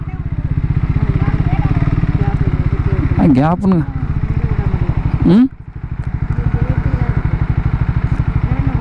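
A Triumph Scrambler 400X motorcycle engine runs on a highway with a loud, steady pulsing drone, with a couple of brief pitch swells as someone speaks over it.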